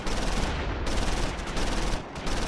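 Rifle fire rattles against a building in the Normandy-landing war game Close Combat 5, a dense, continuous volley of overlapping shots with brief lulls, loud and unbroken, no voices.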